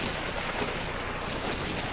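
A fierce electrical storm at night, steady heavy rain hissing densely with low rumbling underneath, loud and continuous with no voices.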